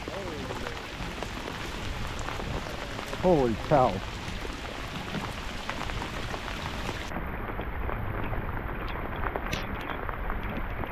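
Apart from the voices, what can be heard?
heavy rain falling during a rainstorm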